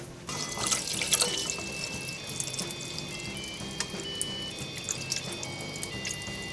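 Hot water runs and splashes as it is poured from a kettle to dissolve amazake mix, a steady close liquid stream with small drips and clinks, no talking.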